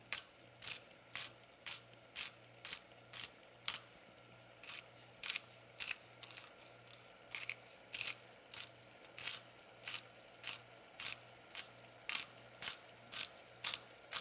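Sea salt ground in a hand salt grinder, a long run of evenly spaced crisp ratcheting clicks, quiet and close, with a faint steady hum underneath and no talking.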